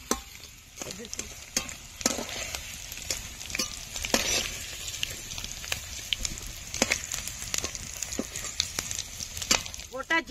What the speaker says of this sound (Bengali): আলু ভাজা হয়ে গেছে, এখন তুলে নেব